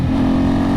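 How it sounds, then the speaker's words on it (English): Ducati S2R1000 Monster V-twin engine braking in second gear, a loud, continuous low engine drone with a steady pulsing rumble under closed-throttle deceleration. "There's a lot of engine braking on this because of the size of the motor in the V-twin, I believe."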